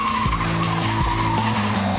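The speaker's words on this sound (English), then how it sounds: "to be able to go out there and slalom drift through traffic" A car slalom-drifts through traffic, its tires skidding in a loud, continuous squeal over a steady engine drone with shifting pitch.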